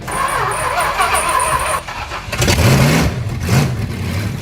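A 440 big block V8 fitted in a Suzuki Samurai cranks with a whine, then catches and fires up into a loud, rough rumble with a couple of revs. It is close and dominant throughout, with no talking.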